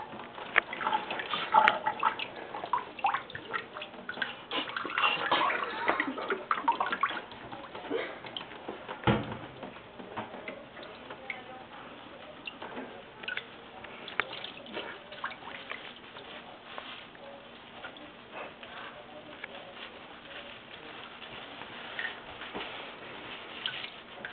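Water splashes and trickles steadily while a cocker spaniel is bathed and shampooed in the Webkinz video game, with small drips and ticks layered over a continuous wet wash that stays soft and even throughout.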